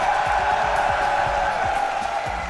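An esports arena crowd at the BLAST R6 Montreal Major roars in a steady, sustained wash of cheering, with no speech over it.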